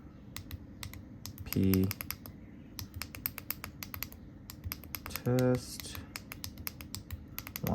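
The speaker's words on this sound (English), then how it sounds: "So I put the cursor on the character, press the select button." Rapid clicking of small navigation and select buttons on an electronic alarm device while entering a router password, crisp close taps in quick bursts, with two brief tonal beeps and talking throughout.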